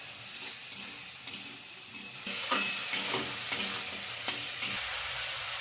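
Banana flower curry base of chickpea spice mix, green chilli, ginger paste, salt and turmeric sautéing in a pan, a steady sizzle broken by repeated scraping strokes of a spoon stirring, close and alone.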